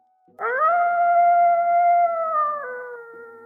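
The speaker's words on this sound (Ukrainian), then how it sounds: "а десь у далечині чується протяжне виття" A single long, sustained wolf howl rises, holds steady for a couple of seconds, then slides lower and fades, clear against a quiet background.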